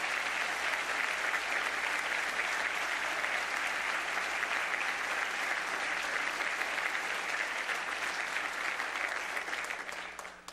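A church congregation claps for the snack bar workers, an even, continuous roar of applause lasting about ten seconds before it abruptly drops off.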